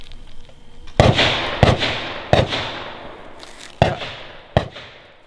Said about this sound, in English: we just got back from that third round of shooting with the CCI Mini Mags